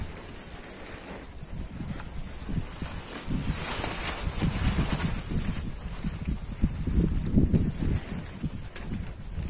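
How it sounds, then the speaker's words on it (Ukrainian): Strong wind blowing outdoors where chili pepper seedlings are being potted, a steady rushing buffet against the microphone that swells and gusts throughout with occasional handling rustles and no speech. "Сьогодні так вітряно"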